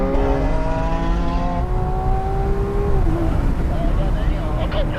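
A 2020 Lamborghini Aventador S Roadster and a McLaren 720S Spider accelerate hard in a rolling drag race, loud engines climbing steadily in pitch through a gear change, then a roaring, rushing blur of engine and wind noise.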